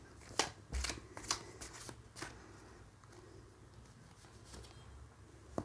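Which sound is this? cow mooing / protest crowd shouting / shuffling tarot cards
shuffling tarot cards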